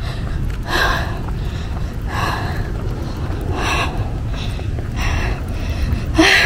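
Heavy, labored breathing from someone out of breath while walking along a highway near a hiking trail, with about six rhythmic gasping breaths in a row, close to the mic over a low rumble of wind and passing traffic.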